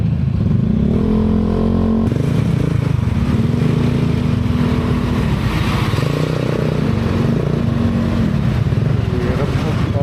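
Motorcycle engine while riding, a loud steady low rumble with the pitch stepping up and down as the rider shifts and revs, wind noise on top, with a voice briefly talking over it.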